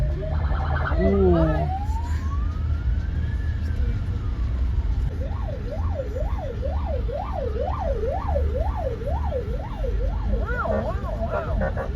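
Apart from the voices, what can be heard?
official's car passing with siren and flashing lights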